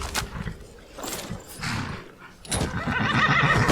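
Frost the horse in Skyrim whinnies several times, loud neighs broken by short pauses, with hooves clip-clopping underneath and close by, no voices.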